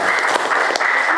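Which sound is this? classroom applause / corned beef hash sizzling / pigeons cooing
classroom applause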